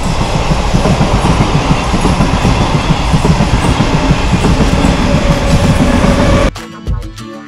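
A train rolls past a railway crossing, loud and close, its wagons drumming in a continuous rhythmic clatter that stops abruptly near the end and leaves a brief quieter tail.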